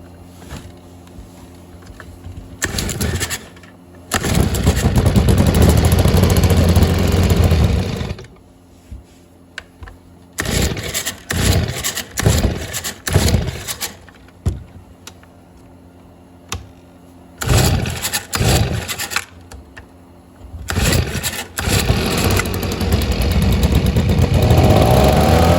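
A Stihl SH 55 handheld blower/vac with a two-stroke engine is started several times, loud buzzing revving bursts of a few seconds each, split by quiet pauses, the final run holding steady.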